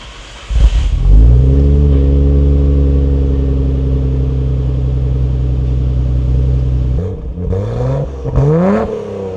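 Nissan Skyline R34 fitted with an aftermarket exhaust starts up and idles with a deep steady drone, then blips the throttle into a couple of rising revs near the end, loud and close with no talking.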